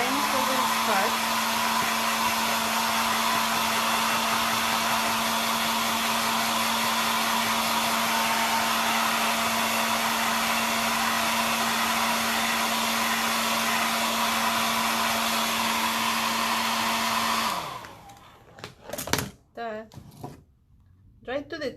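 A hair dryer blows steadily and loudly to dry paint on a snowman painting, a constant whooshing hum with a low motor tone that runs unbroken for about seventeen seconds, then shuts off and winds down, leaving faint handling noises.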